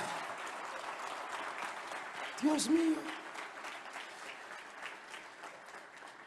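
Church congregation applauding during a Spanish-language sermon, a steady wash of clapping throughout with a brief vocal exclamation in the middle.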